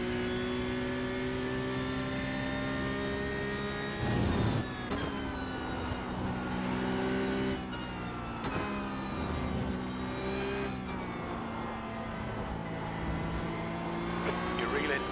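A race car engine in the iRacing sim racing game holds a steady high whine under full throttle, with pitch shifts and brief dips as gears change, running loud and continuous throughout.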